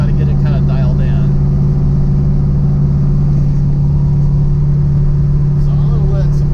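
1933 Ford Tudor with a big-block V8 idling while warming up, a steady loud low rumble throughout with someone talking over it.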